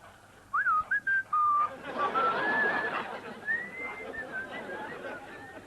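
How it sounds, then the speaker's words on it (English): A person whistles a wavering, sliding tune in short phrases, fairly close, over a faint murmur of background chatter. "You forgot your whistle."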